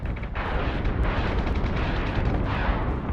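Missiles strike a ship in the space combat game Battlestar Galactica Deadlock, a continuous rumbling barrage of heavy blasts and booms, loud and dense throughout.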